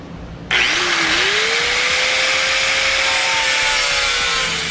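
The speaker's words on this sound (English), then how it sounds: "Now I'm going to be using a grinder with a cutoff wheel to cut off this area" A grinder with a cutoff wheel cuts into the bumper area of a 2015 Kia Soul. It starts abruptly as a loud, steady, high-pitched whine and keeps a constant grinding rasp for several seconds with no talk.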